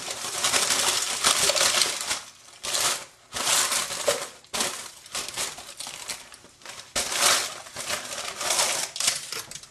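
Homemade baked nacho chips slide off crinkling tin foil into a bowl in several bursts of rustling, clattering crunches, close and loud, separated by brief pauses.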